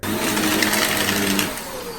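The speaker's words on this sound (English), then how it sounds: "my vacuum stopped working" A household vacuum cleaner runs with a steady, loud whirring drone that drops slightly near the end, as if the motor is losing power, with no talk.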